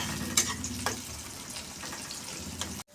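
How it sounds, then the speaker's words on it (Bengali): Onions frying lightly in a pan, softening for a bitter gourd and rohu fish roe dish, with a steady close sizzle and occasional stirring scrapes, then an abrupt cutoff at the end. "পেঁয়াজটা একটু আমি হালকা নরম করে ভেজে নেব"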